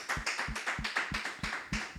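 A church congregation claps in a steady rhythm for Jesus Christ during a Sunday worship service. Sharp, evenly spaced claps land about four times a second, with soft low thumps under each one and no talking.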